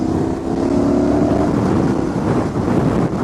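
A Motus MSTR V4 motorcycle accelerates on a windy highway among trucks and traffic, its engine tone rising briefly before heavy wind buffeting takes over.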